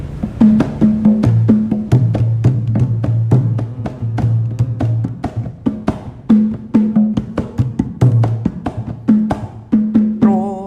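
A kendang drum plays a lively pattern of sharp slaps and deep resonant booms, with a low humming tone underneath, close and clear.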